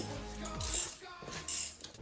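A socket clicking onto a ratchet wrench, a few short metallic clinks and rattles close by, with two brief bursts of clatter in a quiet space.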